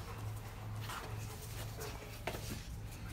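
A Cane Corso puppy whimpers and pants faintly and close by, its soft breathy sounds sitting over a steady low hum.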